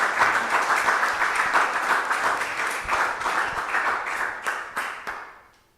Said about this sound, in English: Big applause to them.